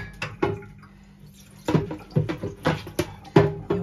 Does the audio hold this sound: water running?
yes